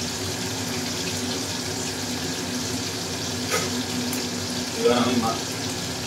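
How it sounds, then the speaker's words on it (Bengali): Koi fish frying briefly in oil over a medium flame, a soft continuous sizzle with watery crackle and a couple of louder spits near the end. "খুব অল্প মাছটা ভেজে নেবেন, মানে 1 মিনিট মতো।"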